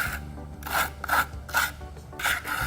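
A trowel smooths a thick trowel coat mixed at a 5-2 ratio, producing four or five close, rhythmic rasping scrapes, each a short sweep with brief pauses between.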